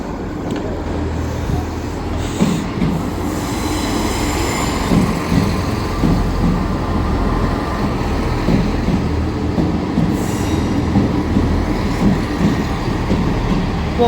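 An East Midlands Railway passenger service, a pair of class 158 diesel units, pulls into a station with a loud, steady rumble of engine and wheels and faint clickety-clack, heard close by with no talking.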